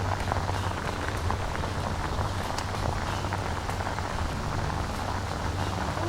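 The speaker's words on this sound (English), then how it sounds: "I don't mind this rain, it's cooling everything off and it's turning the bite on." Steady rain pours down during a freshwater fishing outing for invasive bullseye snakehead, a dense, even hiss of drops on water and surfaces that runs unbroken throughout, with no voices.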